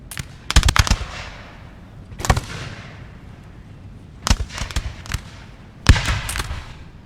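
Musket volleys crack in a Napoleon Total War multiplayer battle, fired at long range: four separate bursts of rattling, overlapping shots, each fading in a rolling echo, loud and close with no talk.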